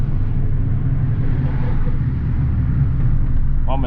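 A small sporty car, its owner's pocket Ferrari, drives with a steady loud low rumble of engine and road noise throughout, and a voice breaks in briefly near the end.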